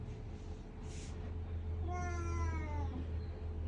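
A cat that wants to go outside lets out a loud, drawn-out meow partway through, over a steady low household hum.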